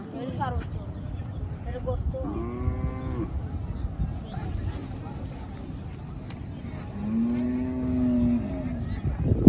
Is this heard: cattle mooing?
yes